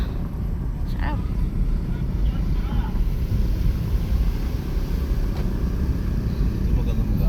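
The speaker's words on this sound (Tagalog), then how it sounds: "Dinig na dinig niyo yung hangin." Strong, steady wind buffets the microphone throughout a provincial road trip, a continuous low roar with no pauses, loud and close.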